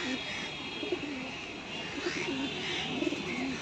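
Large long-bodied domestic pigeons cooing nearby in a loft, soft repeated throaty coos rising and falling in a loose rhythm over faint background hum.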